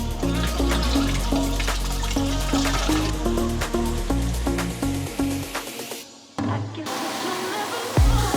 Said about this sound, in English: Drain the oil and fill the fryer with water.